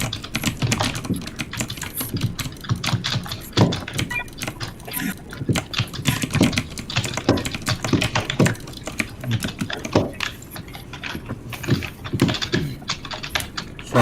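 Loud computer keyboard typing during a Point Blank gaming session, a rapid and continuous clatter of keystrokes that goes on without a break and stays close and prominent throughout.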